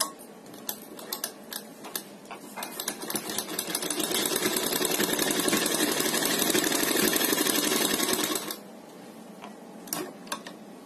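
A sewing machine stitches a neck design onto fabric. A few scattered ticks and taps are followed by a long, loud burst of rapid mechanical clatter that fades out, leaving more sparse clicks.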